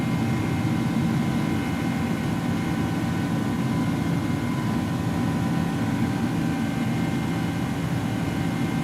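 Steady broadband roar of Airbus A300-600R jet engines in the X-Plane 12 flight simulator, a constant cockpit drone with no variation or talk throughout.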